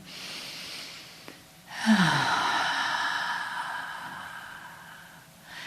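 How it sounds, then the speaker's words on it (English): A large audience draws a long, deep breath in together, a soft, breathy rush that swells suddenly and holds steady for several seconds before fading, with no talking. "So big breath in."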